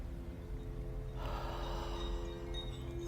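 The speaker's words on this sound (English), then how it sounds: "And breathing out" A slow, breathy exhale in the middle of a guided meditation, soft and close, starting about a second in and trailing off steadily under a faint steady hum with no speech.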